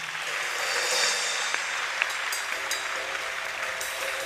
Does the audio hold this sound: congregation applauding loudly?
yes